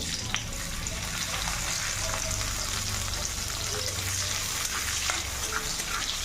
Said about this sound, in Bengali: পেঁয়াজটাকে লাল করে ভেজে রান্না দেখো পেঁয়াজটা লাল লাল করে ভাজা ভাজা হয়ে আসছে